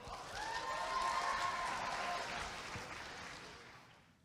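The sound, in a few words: audience applause at a school talent gala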